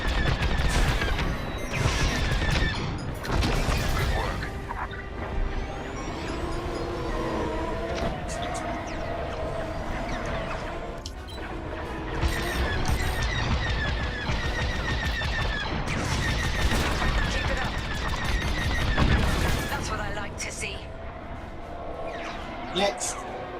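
Rapid bursts of laser cannon fire in the space combat game Star Wars Squadrons, with repeated volleys and blasts under steady game sound while people talk throughout.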